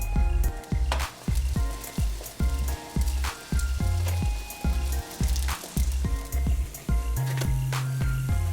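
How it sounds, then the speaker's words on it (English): HoTteok, Korean sweet pancakes filled with brown sugar and cinnamon, frying in a pan: a bright sizzling hiss runs throughout, punctuated by regular soft thumps and a steady tonal backing. "Fry until both sides of the HoTteok become nicely golden brown."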